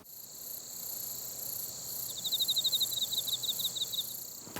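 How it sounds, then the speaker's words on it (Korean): A large field cricket (wang-gwitturami) sings a steady series of short, pure-toned chirps in rapid pulsed bursts, clear and fairly close against a quiet background, with no talking. "이 밝은 부분이 바로 이 귀뚜라미 노래에 가장 많은 에너지가 있다."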